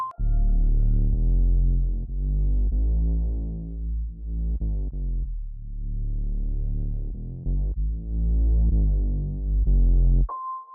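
A deep sub bass line from the hook of a beat, with long sustained booming notes that slide and bend in pitch, loud and continuous for about ten seconds.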